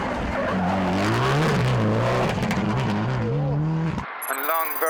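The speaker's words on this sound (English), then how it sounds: "Fourth, Gerald Donovan's Impreza." Gerald Donovan's Subaru Impreza rally car at the Killarney Rally of the Lakes 2017 revs loudly through its gears on a stage, engine pitch climbing and dropping with each shift, then cutting off abruptly near the end.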